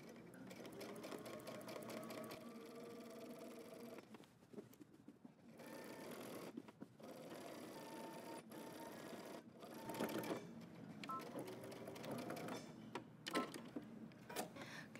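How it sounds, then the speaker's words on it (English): A sewing machine stitches along the edge of fabric in repeated bursts of rapid mechanical whirring, broken by short pauses, close and fairly quiet with no talking. "we're going to go to the sewing machine, and we're going to stitch along the edge of one side and then along the edge of the other side"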